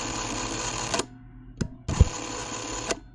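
The motor of a Sankyo Super CM300 movie camera whirs close up in two short runs, each a steady mechanical buzz about a second long, separated by a quiet gap and a click.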